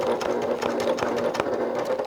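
A sewing machine runs steadily, stitching along a crossbody bag with a continuous motor whir and rapid needle chatter, close up and alone.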